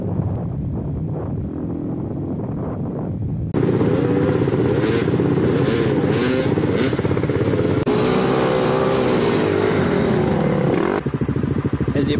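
An enduro motorcycle at full throttle on a highway near 110 km/h, heard as a loud, steady engine drone mixed with heavy wind rush, close to the microphone and continuous, with a brief gear or throttle change near the end.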